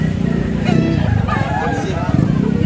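A rooster of the tres medya chicken breed crows outdoors, its call rising over steady background noise and low rumble, with a voice murmuring nearby.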